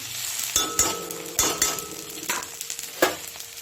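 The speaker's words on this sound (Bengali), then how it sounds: "কড়াতে যদি খুন্তির বাড়ি না পড়ে সেটা রান্নাঘরে মনে হয় না" A metal spatula strikes a wok while potatoes fry, giving several sharp clanks at irregular intervals over a steady background sizzle.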